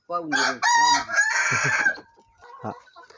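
A hen gives loud, close clucking and squawking calls on a poultry farm, then quieter clucks trail off.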